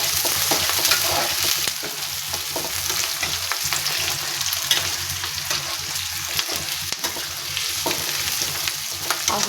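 A mixture fries in a pan on the stove with a constant sizzle while a spoon scrapes and stirs through it in repeated strokes, close and moderately loud, with no voices.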